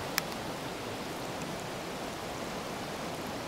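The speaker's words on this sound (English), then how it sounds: "we're coming to this tiny little stream that's leading into the river" A tiny stream in Scotland runs into a river, its flowing water making a steady, faint, even wash that continues alone throughout, with one brief tick near the start.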